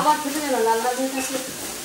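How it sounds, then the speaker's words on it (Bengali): Shredded coconut and sugar sizzle and crackle in a hot pan as a spatula stirs, close and fairly loud. "নারকেলটাকে ভেজে নিচ্ছে চিনি দিয়ে ভালো মতো"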